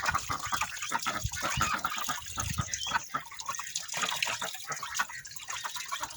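Chickens cluck steadily close by on a farm, with a busy, bright outdoor background running underneath.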